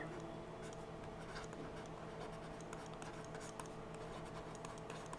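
A pen scratches out numbers by hand for a maths lesson, close and continuous, with quick strokes and small ticks as each digit is written.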